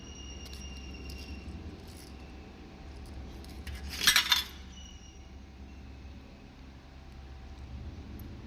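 A rupee coin and ritual items drop into a kalasam pot during a Varalakshmi Vratham setup, a short burst of bright metallic clinks near the middle against a quiet background hum.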